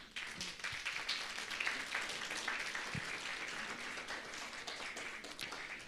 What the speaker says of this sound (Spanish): por favor vamos a dar fuertes aplausos aquí a todos los papás que nos están acompañando